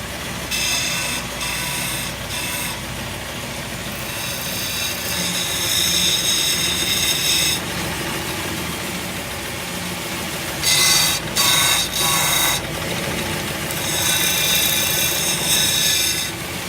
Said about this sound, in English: This one I'm just going to take to the belt sander and clean up a little bit.